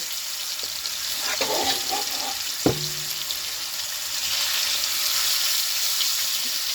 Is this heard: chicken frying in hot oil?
yes